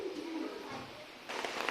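Imported Teddy pigeons give a soft, low coo near by, one brief call followed by quiet rustling in a short, faint moment.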